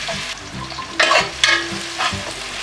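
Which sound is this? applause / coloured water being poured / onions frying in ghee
onions frying in ghee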